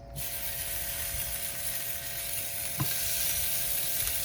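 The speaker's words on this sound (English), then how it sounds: "Let me hear that sizzle." Ribeye steaks sizzle loudly and steadily on a hot grill, a constant crackling hiss with a brief clank partway through.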